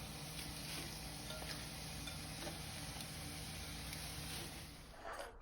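Shrimp going into a hot pan with garlic, pimento, jalapeño and celery leaf for Guyanese pepper shrimp, giving a steady, close, dense sizzle with faint stirring ticks throughout, easing slightly at the end.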